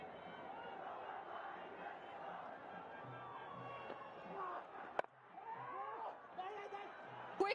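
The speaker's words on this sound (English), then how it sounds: "And the crowd's enjoying every moment of it." Crowd at a Nepal Premier League cricket match cheering in a steady, broad roar that runs through the whole stretch, with a commentator talking over it and a brief sharp burst near the end.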